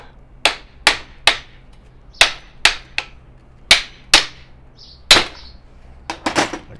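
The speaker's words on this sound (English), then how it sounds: "So you can just hammer it." Hammering off a car part: about a dozen sharp metallic blows, close and loud, coming in uneven bursts with short pauses, ending in a quick cluster of strikes.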